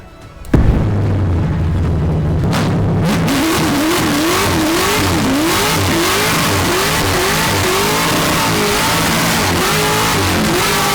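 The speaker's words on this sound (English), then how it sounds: "we can legally drive the drift car on the street" A drift car's engine starts with a sharp burst, then revs repeatedly in rising and falling pulls before settling into a loud, steady roar that continues throughout.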